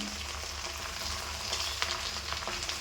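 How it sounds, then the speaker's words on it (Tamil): Pennywort (vallarai) leaves sautéing in hot oil give a steady close crackling sizzle, with faint stirring scrapes rising briefly near the end. "இந்த எண்ணெயில் இது கொஞ்சம் நல்லா வதங்கட்டும்."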